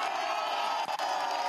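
A crowd cheers and applauds steadily at a public presentation event in Junín, Peru, a dense, continuous wash of voices and clapping that holds at moderate loudness from start to finish.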